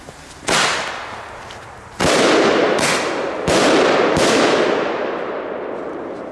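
Polish Thunderking firecrackers explode in a rapid series of five loud, sharp bangs, each followed by a rolling decaying boom that overlaps the next.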